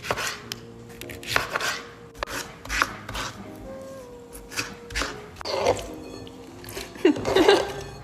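A knife chops tomatoes on a cutting board for a salad, with a series of sharp, close knocks in uneven bursts, plus a few faint incidental sounds in between.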